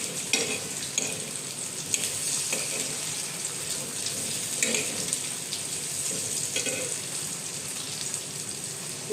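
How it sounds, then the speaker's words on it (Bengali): Pieces of ash gourd fry in a hot pan while being turned and stirred, producing a continuous loud sizzle broken by scraping and clattering strokes of the spatula. "এভাবে উল্টে পাল্টে ভেজে নিচ্ছি"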